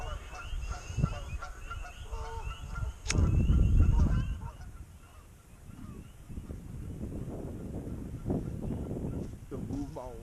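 Geese honk intermittently in the distance in a swamp while a person talks, with wind buffeting the microphone partway through.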